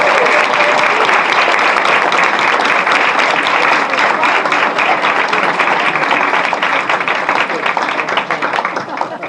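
Loud, sustained applause from a standing audience at a New Hampshire political anniversary gathering, dense clapping filling the whole stretch and easing slightly toward the end.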